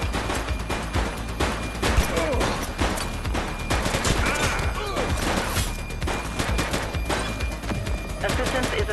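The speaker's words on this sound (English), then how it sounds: "He's shooting!" Sustained gunfire in a police shootout from the video game The Precinct, dense rapid bursts and sharp reports crackling without pause, loud and close, with shouted voices mixed in.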